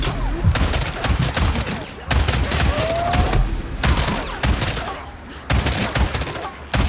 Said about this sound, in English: I can hold this spot pretty well with this fucking shotgun.